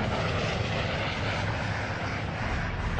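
Piston engines of a B-17 bomber in flight during wartime air combat drone as a steady, dense, loud roar with no breaks, filling the whole stretch without any voices.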